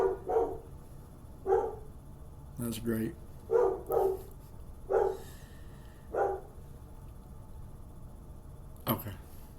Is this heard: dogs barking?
yes